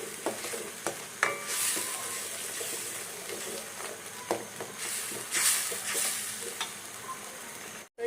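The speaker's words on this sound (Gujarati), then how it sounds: "અને હવે તેલ છૂટું થાય ને ત્યાં સુધી આ ગ્રેવીને પકાવવાની છે આપણે" Gravy with garam masala simmers and fries in oil until the oil separates, stirred repeatedly with a spoon: a steady, close sizzle broken by scraping strokes and soft splashes.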